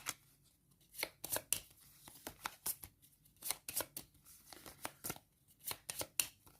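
A deck of cards for the Stellarion space board game being shuffled by hand, a series of short riffling bursts and taps coming in irregular clusters, close and fairly quiet with no talking.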